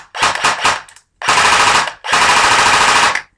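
A JG G36K battery-powered airsoft rifle with metal gears and a stock motor fires three loud, close full-auto bursts, each a rapid buzzing rattle, the first short and choppy, the later two longer and sustained.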